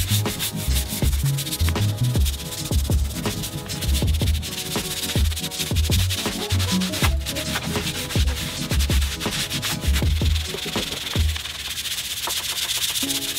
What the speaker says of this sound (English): nothing's gonna really happen until we actually hit this with a wire wheel or a wire brush.